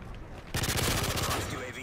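Gunfire in Call of Duty: Modern Warfare 3 erupts after a half-second lull into a dense, sustained burst of rapid shots that stays loud to the end, with some game effects underneath.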